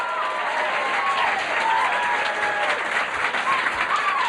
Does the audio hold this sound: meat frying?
no